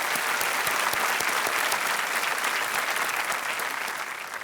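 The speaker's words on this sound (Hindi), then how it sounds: "तालियों के साथ इनका स्वागत।" A studio audience on a Hindi television quiz show breaks into dense, sustained applause, loud and even, fading slightly toward the end.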